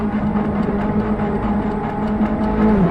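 A small Abarth 500 car engine idles roughly and then builds revs, a steady rumbling drone that swells louder toward the end.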